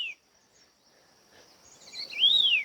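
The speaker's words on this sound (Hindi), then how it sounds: "और चिड़ियाओं की आवाज़ आ रही है, प्यारी सी। बहुत सारी अलग अलग टाइप की" A couple of high, thin bird chirps sound against near silence: one brief at the start and a clearer whistled call near the end.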